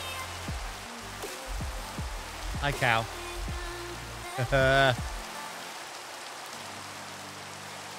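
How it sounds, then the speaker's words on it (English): Steady rainfall in a Minecraft-style sandbox video game, a soft continuous hiss under a man's brief spoken greeting and some tonal game sounds. "And some rain."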